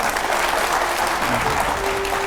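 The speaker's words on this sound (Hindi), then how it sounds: "जोरदार तालियां।" A crowd at a political gathering gives Akhilesh Yadav loud applause, a dense continuous wash of clapping with crowd noise and a faint tone underneath, steady throughout.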